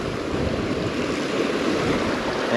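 Fast-flowing water rushes steadily in the neck of a salmon pool on the River Dee in Scotland, a loud, close, continuous broadband wash with no voices.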